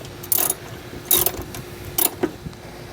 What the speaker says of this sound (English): Now we're going to loosen these that hold the battery down.